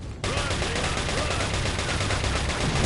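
Rapid gunfire from the Resident Evil 4 video game, a loud, dense burst of repeated shots starting abruptly and continuing steadily to the end, with game sound effects layered in.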